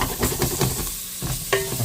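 Masala for a spicy homemade chicken curry sizzling in a pan while being stirred, an up-close frying hiss broken by a few rhythmic scraping stirs and a sharper clank near the end.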